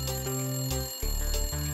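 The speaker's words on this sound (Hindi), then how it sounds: "जब भी इस कार में फोन बजता है मुझे ही उठाना पड़ता है" A phone rings inside a car with a repeating electronic ringtone, steady bursts of bright tones that keep shifting pattern over under two seconds, loud and close with no talking.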